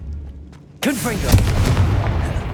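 A Confringo blasting spell from Hogwarts Legacy erupts in a single sudden, booming explosion after a quiet moment, followed by a rumbling, crackling tail that stays loud to the end.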